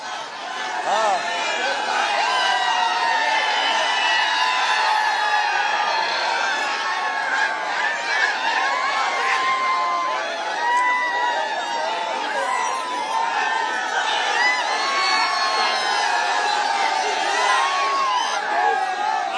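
A large outdoor crowd celebrates a Maratha reservation victory, cheering, whooping and chanting together in loud, sustained waves, with voices shouting over the roar.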